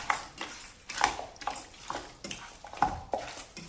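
Chicken pieces being rubbed by hand with garam masala, pepper powder and salt in a bowl, producing soft, rhythmic squelching and scraping strokes, faint and close, with no talking.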